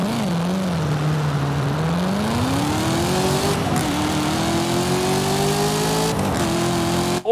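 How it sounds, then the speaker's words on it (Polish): A 1000 HP, 6.16-litre V8 in a Cadillac CT5-V Blackwing in Forza Horizon 5 growls and revs, its pitch climbing steadily with two brief gear-change dips, loud and continuous with no talking. "Posłuchajmy go."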